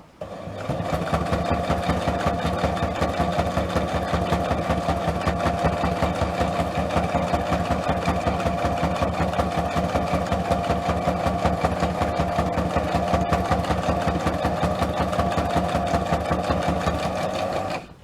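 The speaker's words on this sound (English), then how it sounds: "I'm sewing it just a little bit deeper than I would normally." A sewing machine runs steadily for the whole stretch, a fast, even mechanical whirr and clatter of stitching, close and loud, with no talking.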